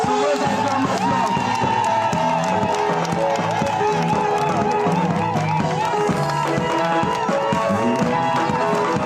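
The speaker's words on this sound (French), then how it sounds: "sous vos acclamations" A crowd cheers and claps for a speaker introduced at an event in Douala, a dense, loud, continuous wall of voices and clapping, with music and shouting mixed in.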